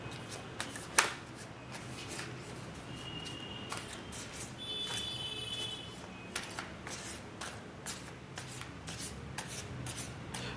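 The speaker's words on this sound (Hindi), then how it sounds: "तो सबसे पहले मैं अपने कार्ड शफल करूँगा।" Tarot cards shuffled by hand in a quiet room, with soft repeated riffling and rubbing bursts of paper and a few sharper card snaps, close and faint, with no talking.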